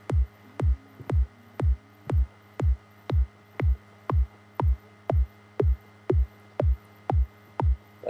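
Layered kick drum sample played in Ableton, repeating as a steady pulse of about fourteen punchy, deep thumps at an even tempo, clean and close with nothing else heard.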